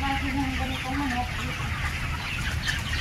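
Many 20-day-old broiler chickens in a farm pen cluck and chatter together in a dense, continuous flock noise, with a few higher calls rising out of the steady din.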